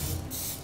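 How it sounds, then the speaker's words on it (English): Coconut oil sprayed from a can into a cupcake tin, a single loud continuous hiss filling the whole short moment, close up and with no talk over it. "I'm gonna spray this first with some coconut oil."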